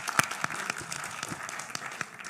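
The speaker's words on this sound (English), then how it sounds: "please, a round of applause for him." Conference audience at an anesthesia congress in Rwanda applauds a new board member, a moderate, steady patter of many hands clapping with sharp individual claps standing out, no talking.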